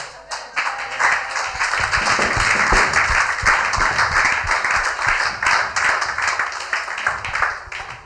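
A church congregation bursting into sustained applause during a sermon, steady dense clapping from many hands filling the room for several seconds, with some voices mixed in.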